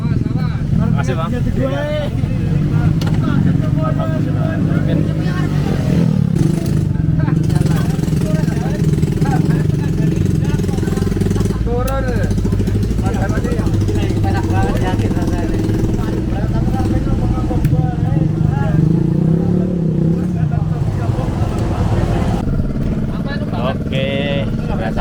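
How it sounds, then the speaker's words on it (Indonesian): A motorcycle rides along a mountain trail route at the foot of Gunung Slamet via Bambangan, its engine droning steadily and close throughout, with people talking over it. "Naik motor yang mantap."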